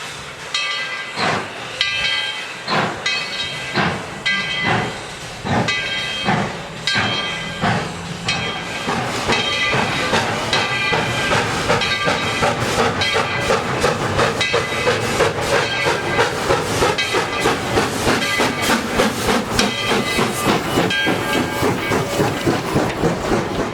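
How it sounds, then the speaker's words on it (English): A steam locomotive, number 12, chuffs in strong, regular beats that quicken as it pulls a full passenger train out of Tweetsie Junction station, with hissing steam and the clatter of rolling cars, no talk. "We begin with number 12 pulling out of Tweetsie Junction with another full train of passengers."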